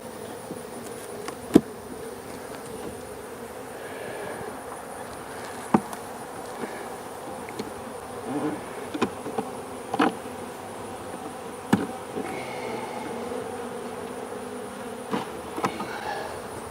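Honey bees swarming around an opened hive during a winter frame inspection make a steady, even buzz throughout, with scattered light knocks and clicks from the frames and equipment, and no talking.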